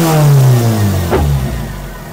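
A car engine, recently adjusted for advanced timing that made it hard to start, catches and revs, loud and close, with a falling rev sweep and then a steady idle under a broken exhaust note. No one speaks.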